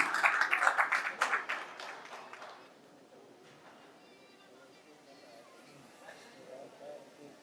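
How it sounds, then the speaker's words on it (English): At a business conclave in Chennai, an audience bursts into a short round of clapping that lasts about two seconds and then fades, leaving quieter room noise and a voice. "A huge round of applause to the King of Sweet, A2B."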